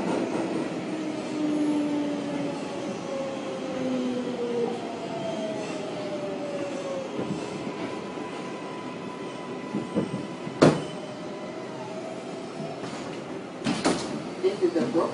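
A New York City 6 subway train rumbles steadily along the tracks with whining motor tones rising and falling, a few sharp clanks, and muffled talk beneath the noise.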